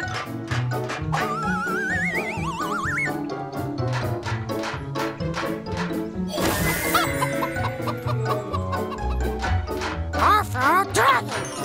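Cartoon chicken clucks in short bursts, a sword's magic having turned things into chickens, mixed with lively children's-show music, laughter and a zany sliding effect.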